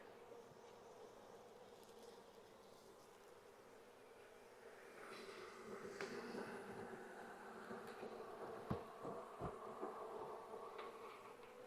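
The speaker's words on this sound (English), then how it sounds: "Lots of bees, lots of bees." Honeybees from a brood-filled nuc frame buzz as a steady, dense hum, swelling somewhat louder midway with a few sharper bursts near the end, no voices.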